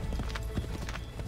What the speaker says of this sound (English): Come on, horse. Stupid slow horse.